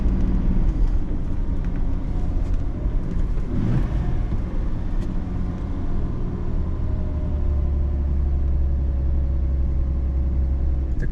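A Mercedes Fintail, a mint single-owner car, pulls steadily in third gear on a road test, its engine a continuous low rumble with road and wind noise, loud and close throughout.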